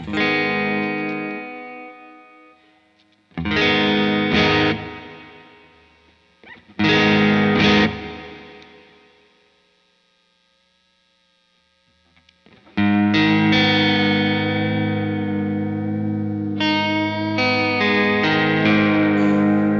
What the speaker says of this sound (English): So that's like a true pitch vibrato.